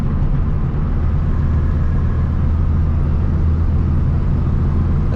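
VW Beetle with a newly fitted carburetor on its first drive on the road, a steady loud low engine drone and road rumble heard from inside the car, unbroken and without talk.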